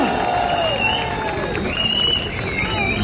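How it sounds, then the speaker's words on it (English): Applause from a large crowd for a choir at an outdoor Diwali celebration at Federation Square, Melbourne: steady clapping and cheering from many people across the space, with a voice speaking over it. "You need a special round of applause."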